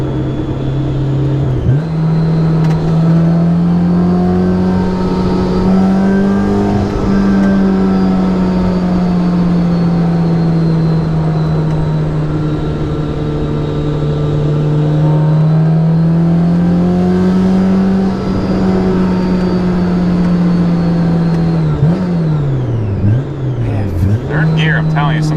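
A supercharged Honda S2000 CR with a Kraftwerks supercharger drones steadily from inside the cabin while driving, its constant whine rising and falling with engine speed, loud and continuous throughout.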